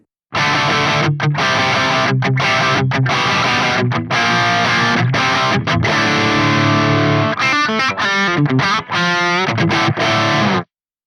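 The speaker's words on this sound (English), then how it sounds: "Now, here it is with those high mid frequencies in." Distorted electric guitar through a Soldano SLO-100 amp with the high-mid switch engaged, loud chugging power chords and ringing sustained notes in a continuous riff with short gaps, no talking.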